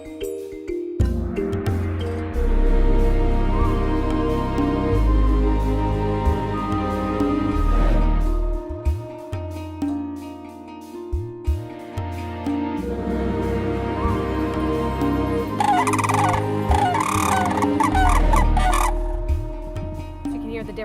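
Cranes trumpeting in alternating male and female calls, loud and close, with honking, gobbling-like notes that swell and pause over about twenty seconds.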